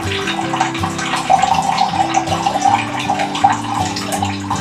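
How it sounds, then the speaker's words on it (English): Tea liquid poured out of a container in a steady, continuous splashing stream, fairly loud and close, with no talking. "you want to pour this right in and it will come right out"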